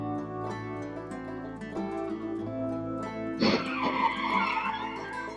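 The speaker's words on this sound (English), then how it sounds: "After a car hit the truck, both vehicles spun around 180 degrees." A car strikes a red pickup truck at an intersection, and both vehicles spin around. Engine drone gives way to a sudden loud impact, followed by skidding and scraping tire noise heard from a distance.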